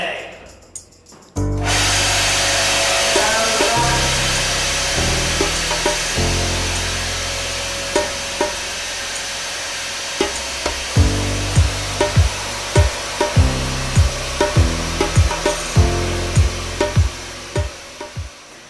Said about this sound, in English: Washing apples and chopping apples.